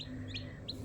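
Chickens being let out of a coop by a home in Azerbaijan give a few short, quiet clucks and chirps over a steady low hum, with no talking.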